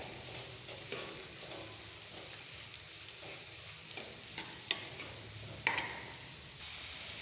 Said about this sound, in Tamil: வெங்காயம் சேர்த்து நல்லா வதக்கணும்.